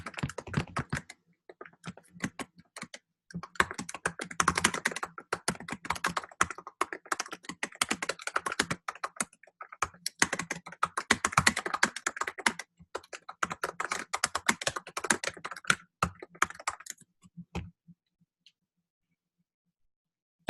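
Steady typing on a computer keyboard, close and moderately loud, a dense run of rapid key clicks with brief pauses that lasts about seventeen seconds before stopping into silence.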